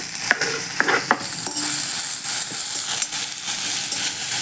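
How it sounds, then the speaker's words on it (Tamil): Steady loud sizzling of chopped small onions frying in hot oil for chicken curry, with a few clinks of a spoon stirring early on. "இப்போ நம்ம பொடியாக நறுக்கி வச்சுருந்த சின்ன வெங்காயத்தை போட்டுக்கலாம்"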